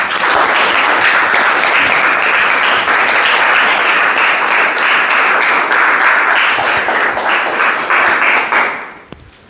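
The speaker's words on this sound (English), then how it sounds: "I think this man deserves the best and a huge round of applause" A large audience at a Toastmasters club meeting gives a sustained, loud round of applause, dense clapping that continues for nearly nine seconds before fading out abruptly.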